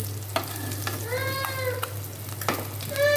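Fish frying in a pan at home, a soft crackling sizzle with a few sharp stirring scrapes, while faint high squeaky cries sound in the background.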